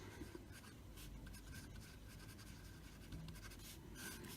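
Pen scratching steadily across paper while working a math problem, a continuous faint writing sound with short strokes and no voices.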